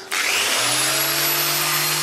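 A triangular sander with 120-grit paper runs on alloy wheel rims, starting abruptly and holding a steady, loud whirring buzz with no talk.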